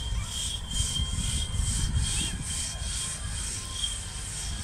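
A two-man saw cuts through timber in a saw race at a steam fair, a steady rasping back-and-forth rhythm of strokes at moderate distance, with no talk.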